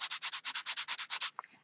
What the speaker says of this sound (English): So you'll bring your sanding sponge back out.